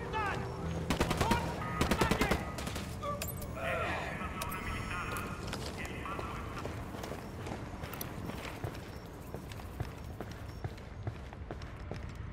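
Bursts of automatic gunfire ring out in the tactical shooter video game Ghost Recon Wildlands, loud early on and then settling into scattered distant shots over a steady background rumble.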